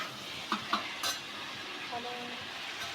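Utensils clink against a pot a few times as vegetable curry of arbi (taro root) is stirred outdoors, the scrapes and taps fairly close over a steady background hiss.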